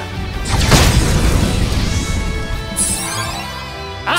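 A fire spell attack in Octopath Traveler II: a loud, roaring blast that swells into a sustained crackling whoosh for several seconds, ending with a bright magical shimmer.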